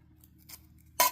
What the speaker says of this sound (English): I think I'm going to cut another piece